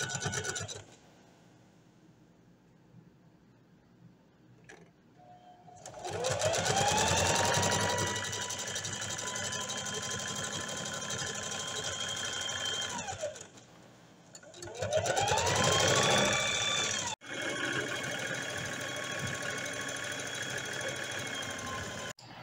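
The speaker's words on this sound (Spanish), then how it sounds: "Realizamos la costura entonces de la parte media del short, también de este lado realizando overlock." An overlock sewing machine stitches the middle seam of a pair of shorts in two loud, steady runs, each one winding up and then running down, separated by short quiet pauses with faint handling noise.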